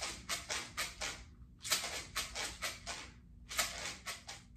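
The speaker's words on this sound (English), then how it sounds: "I am going to play this jar of pepper for the python snake." A jar of pepper shaken as a rattle instrument gives quick rhythmic bursts of gritty rattling in three separate groups of shakes with brief pauses between, close and fairly soft.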